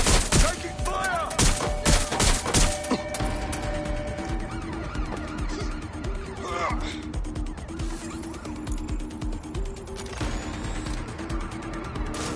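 Gunfire in the Watch Dogs Legion video game, a dense burst of loud shots at the start amid a car chase, with engine noise, crashes, siren-like tones and voices talking over it.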